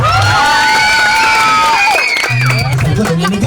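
A crowd, children among them, shouts and cheers loudly throughout at a party show hosted by a clown, with whoops and voices layered together.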